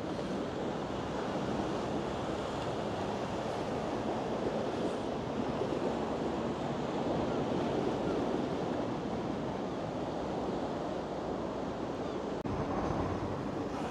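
Sea surf washing onto the shore at Blackpool with strong wind buffeting, a continuous dense roar of breaking waves and gusts, close and steady with no talk.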